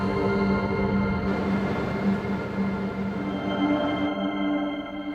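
A heavy coal train rumbles steadily past with a droning hum and rhythmic clatter of wagons, loud and close.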